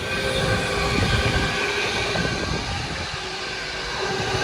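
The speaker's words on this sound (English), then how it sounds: "this is Euston Manchester. It's the one that calls at Milton Keynes Central, so it's just left there now" A Euston to Manchester express pulls away from Milton Keynes Central, a continuous heavy rumble and rolling wheel noise heard from nearby, steady throughout with a slight easing toward the end.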